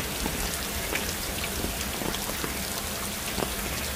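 Rain falls steadily on a hiking trail in Shing Mun Country Park, a dense, even hiss with scattered close drops pattering on surfaces, and no voices.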